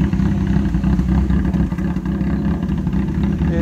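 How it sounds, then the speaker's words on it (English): A 2000 Nissan Sentra with an idle problem runs at a steady, close, low-pitched idle that drones evenly through the whole stretch with no revving and no voices. "my car is idling like shit anyway, and I don't know why"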